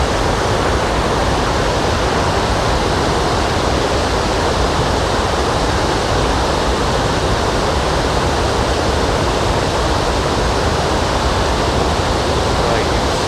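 Steady, full-bodied rush of a waterfall in a North Carolina temperate rainforest, a constant broadband roar that fills the whole clip without pause, close and loud, with no voices over it.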